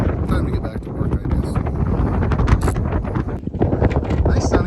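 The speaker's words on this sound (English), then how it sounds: "There's probably 35-mile-an-hour wind gusts up here, so good enough." Strong wind gusts on a hilltop buffet the microphone with loud, continuous rumbling and bursts of broadband noise.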